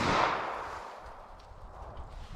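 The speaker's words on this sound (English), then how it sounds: "Let's see how close we get to 990 feet per second out of this little 3-inch pistol." A single sharp report from a Diamondback DB9 9mm pistol with a 3-inch barrel, fired outdoors at a chronograph, loud at the start and then decaying into a brief fading echo.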